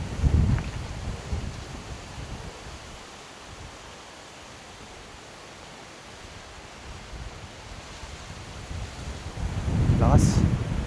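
Strong wind buffets a campsite during solo motorcycle camping, a steady rushing roar with louder gusts at the start and end, rumbling against the microphone.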